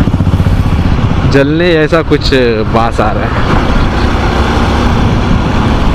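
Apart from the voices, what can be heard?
Bajaj Pulsar NS200 motorcycle riding at speed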